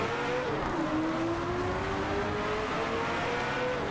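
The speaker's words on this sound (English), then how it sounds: "that is the sound of a car that wants blood." A race car engine in Driveclub holds a steady, loud roar at near-constant pitch, dipping briefly then settling into a sustained high drone close up, with no other sounds over it.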